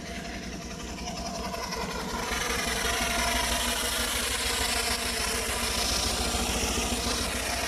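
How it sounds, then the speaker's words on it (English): A steam engine at the Castle Combe steam rally, running with a continuous chuffing, mechanical rumble that swells slightly partway through, loud and close, with broad outdoor noise around it and no voices. "There we go, steam engine there."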